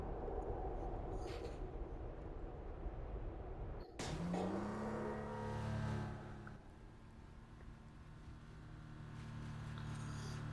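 Porsche Phantom build revving in Need for Speed 2015, a loud steady engine drone that surges sharply at about four seconds into a rising rev, then settles into a sustained high-revving roar through the end.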